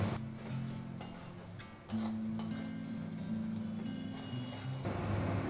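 Spice paste with salt, chili powder, coriander and turmeric fries in a pan, a close sizzle broken by scraping stirs, with the frying swelling louder partway through and no one speaking.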